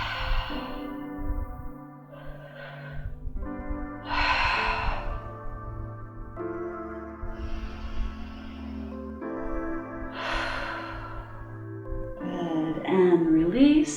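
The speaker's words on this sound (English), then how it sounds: "Curl the shoulders forward, chin to the chest, and breathe deeply." Deep, slow breathing during a seated upper-back stretch for singers, long audible inhales and exhales that alternate, heard close and mixed with soft vocal sighs and breathy tones.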